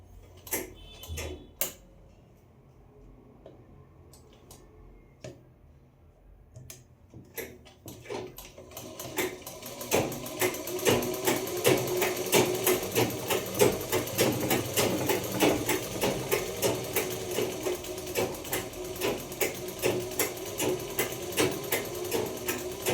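A sewing machine stitches a fitting seam along a marked line on a kaftan: a few isolated clicks and thumps first, then a steady rapid mechanical chatter running continuously at close range with no talk.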